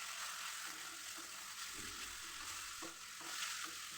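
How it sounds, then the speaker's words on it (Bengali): Spinach leaves are stirred and fried in a pan with onion and garlic, giving a steady close sizzle with occasional soft scraping knocks of the spatula. "এখন আমি শাকগুলো দিয়ে দিলাম, দিয়ে তারপরে খুব ভালোভাবে নাড়াচাড়া করে একদম ভাজা ভাজা করে ফেলবো।"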